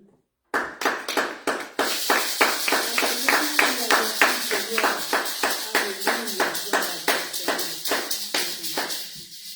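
A church congregation claps together in a steady rhythmic beat during worship, loud and sustained, with voices singing underneath.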